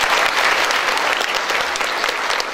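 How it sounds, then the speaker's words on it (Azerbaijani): Audience applause fills a school hall at an International Mother Language Day event, a dense, steady wash of many hands clapping loudly throughout with no pause. "sizi bu duyarlılığınızdan ötürü bir ürəkdən alqışlamaq istəyirəm"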